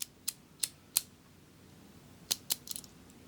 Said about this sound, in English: I love the sound of those pins clicking into their special positions